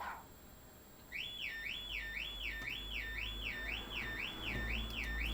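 A car alarm wails faintly in the background, a distant siren sweeping up and down in a steady repeating cycle over low room noise.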